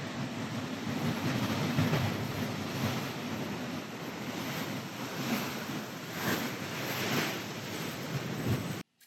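Ocean surf rolling onto the shore at Ocean Beach, San Diego: a continuous broad roar of breaking waves with gentle swells in loudness, heard alone with no talking, cutting off abruptly at the end.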